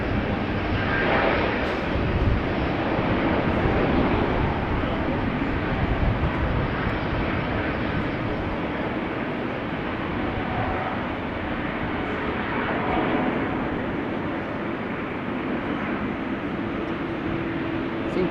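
A Turkish Airlines Airbus A330 jet roars loudly and continuously at Amsterdam Schiphol Airport, a dense, close engine rumble that holds steady with no talk.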